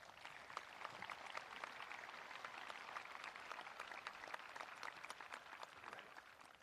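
A graduation ceremony audience applauds steadily, with continuous clapping from a large crowd filling the hall at a moderate distance for several seconds.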